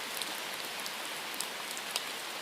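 Steady rain falling, a dense even hiss with scattered faint droplet ticks, continuous and close throughout with no voices.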